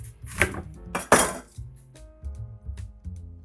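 A knife slicing an onion on a cutting board, two crisp chopping strikes followed by softer, lighter taps, close and alone.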